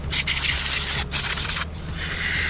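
Cleaner sprayed from a can onto the dirty carburetor of a Generac GP3300 generator, heard as close, loud hissing bursts with two brief breaks between sprays.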